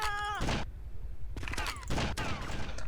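Bursts of gunfire from GTA Vice City Remastered come in quick clusters separated by short pauses, fairly faint, with some game vocal sounds mixed in.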